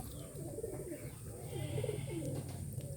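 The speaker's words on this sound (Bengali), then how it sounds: "এটা হচ্ছে নর কবুতর" A male pigeon coos in soft, low, repeated rolling phrases over a steady background hum, fairly faint and without talk.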